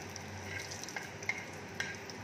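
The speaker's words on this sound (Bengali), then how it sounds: "দিয়ে দিচ্ছি একটা তেজপাতা।" A single bay leaf dropped into hot oil for a Bengali dal tadka, giving a faint, soft sizzle with a few light clicks of the spoon and no voices.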